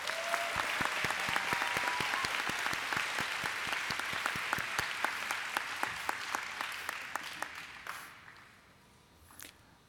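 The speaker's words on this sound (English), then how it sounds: "Round of applause, please." Sustained applause fills a 2015 elementary and early childhood education graduation ceremony at The College of New Jersey, a dense crowd clapping steadily before tapering off to a few last claps.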